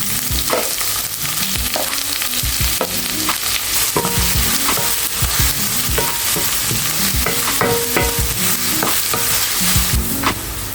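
Two onions sautéing in a pan for a Tamil drumstick rasam and poriyal meal, loud continuous close sizzle with frequent scraping and clacking of a spatula stirring, no talking.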